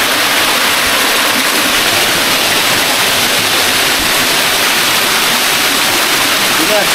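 Strong-flowing forest stream rushing steadily in a continuous loud broadband roar, close by and without pause, with no clear speech above the water.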